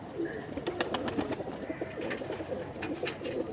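Teddy high-flying pigeons of the Sher Dil strain coo in a steady, low murmuring run, with soft bird calls mixed in at close range.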